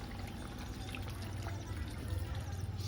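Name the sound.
water being poured into the fish curry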